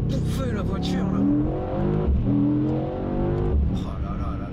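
A 612 hp Mercedes E63 S AMG accelerates hard, its engine note climbing through the revs with shifts between pulls, under excited talk from people inside the car.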